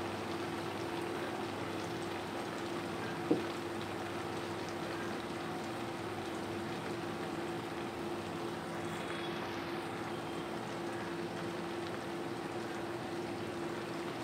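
Butter bubbles in a large kadai as it cooks down into ghee, a steady, close, crackling hiss that carries on evenly with one small click and no voices.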